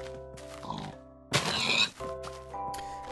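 A blocky pig in a Minecraft-style survival game oinks in a short, close grunting burst over a steady bed of soft game music.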